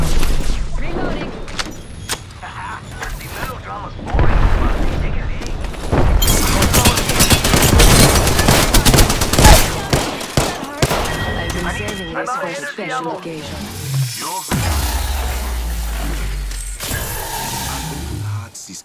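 Heavy gunfire in the video game Apex Legends, loud bursts of rapid shots and mechanical clatter across a chaotic firefight, with character voices calling out over the action.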